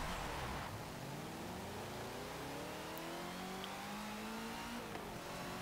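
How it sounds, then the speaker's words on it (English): A 1970s Corvette in Forza Motorsport 7 on a racetrack revs hard, its engine note climbing through rising tones with gear changes, loud and continuous throughout. "really rather high revving for a Corvette from the 70s"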